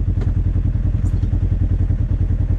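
A Polaris RS1 engine pulls away in low range four-wheel drive, a loud, close, steady throbbing drone with rapid regular pulsing and faint clatter, no voices.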